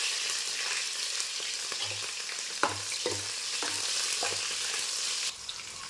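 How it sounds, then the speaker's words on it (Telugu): Onions, green chilies and biryani spices frying in hot oil, a dense, steady sizzle close by, with occasional soft knocks of a spoon stirring the pan. "ఆయిల్ కూడా హీట్ అయిన తర్వాత బిర్యానీ మసాలాలన్నీ వేసుకుంటున్నాను ఇంకా ఉల్లిపాయలు ఉల్లిపాయలు పచ్చిమిర్చి కూడా అండి"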